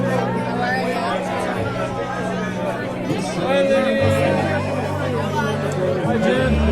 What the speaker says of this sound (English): there's quite a good crowd